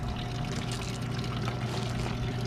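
A small decorative water feature at a campground in Sigel, Pennsylvania pours and splashes steadily, a continuous close wash of falling water with no talk.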